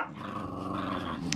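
A dog growls low and steadily for a little over a second, close and fairly loud, ending with a brief higher yip.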